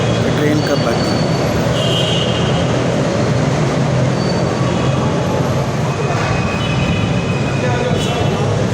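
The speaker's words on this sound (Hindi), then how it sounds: "उससे पहले ही ट्रेन आ गई और ट्रेन के अनाउंसमेंट भी हो गई" Orange Line metro train arriving at a station in Lahore, a loud continuous rumble of the train with faint wheel squeals and platform noise.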